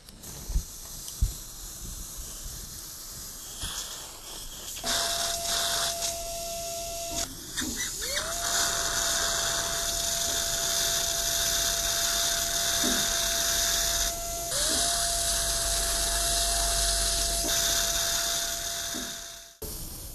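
A dental implant drill runs into the mandibular jawbone with a steady high-pitched whine that starts, stops and restarts several times, its pitch dipping and recovering as it bites, alongside faint suction hiss and no voices.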